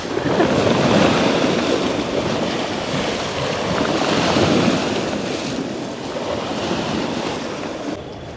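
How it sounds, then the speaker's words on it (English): Rough, choppy sea waves churning and slapping continuously off Syros, Greece, with heavy wind buffeting the microphone throughout. "the water is really choppy"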